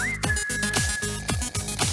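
A steady high whistle holds one pitch over a bouncy rhythmic music beat with thumping kicks.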